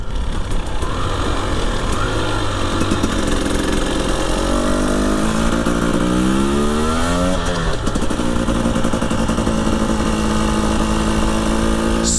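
A 2020 Husqvarna TE300i fuel-injected two-stroke enduro motorcycle is ridden through a loud, close engine drone that revs up through rising pitch sweeps, drops back and climbs again.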